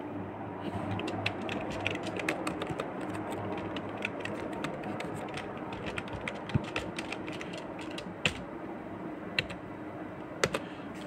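Someone types a post on a computer keyboard, sending out quiet, irregular runs of light key clicks with a few sharper taps in a still room, no talk.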